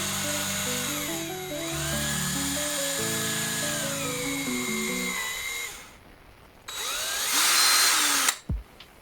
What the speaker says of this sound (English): drill a 2mm hole through the centre of that down to the exit of that